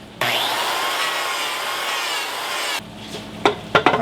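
A woodworking tool eases a V cut into hardwood, a loud close grinding buzz that holds for about two and a half seconds and then stops abruptly, followed by a few sharp knocks and clicks.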